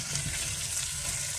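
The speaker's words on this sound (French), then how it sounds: "On touille." Sliced mushrooms are stirred into a sizzling pasta gratin mixture of lardons, peppers and seasoning in a hot pan, giving a brief, close, continuous frying hiss with soft scraping underneath and no voices.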